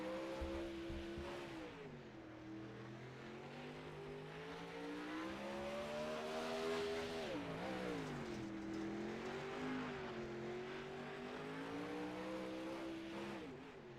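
Several race cars in a sim racing game roar around the track with sustained, rising and falling engine notes, loud and continuous as they accelerate and shift, with no talking over them.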